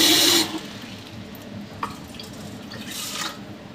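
Water pours into the inner pot of a Baumann rice cooker, a loud rushing splash at first, then a few scattered drips in a quiet room.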